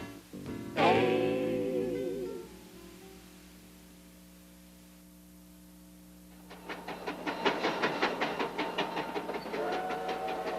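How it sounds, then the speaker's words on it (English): Old-time steam train clattering along the rails in a rhythmic clickety-clack, rising loud after a quieter stretch, with a whistle-like tonal blast near the start. "Did you ever watch an old Western movie and see those old-time trains on television?"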